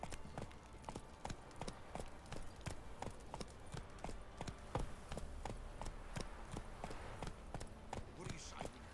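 Roach the horse gallops in The Witcher 3, a steady rapid clatter of hooves on hard ground running throughout at close range, with a voice speaking over part of it.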